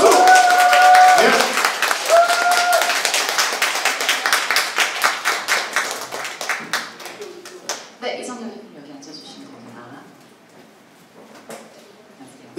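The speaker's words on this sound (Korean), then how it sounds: "박수!" A crowd claps loudly, the applause thinning into scattered individual claps and fading out after several seconds.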